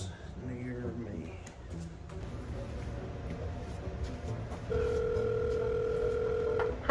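A phone call being placed to a plumber: a few brief tones, then a steady ringback tone holding in the last seconds, with a voice talking earlier.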